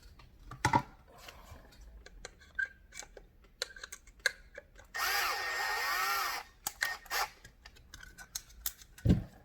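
A power driver turns screws into the receiver of an SSX/MK23 bullpup kit: one sustained whirring burst of about a second and a half amid scattered clicks and handling taps, close and quiet.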